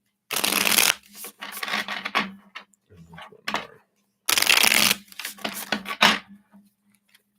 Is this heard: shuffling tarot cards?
yes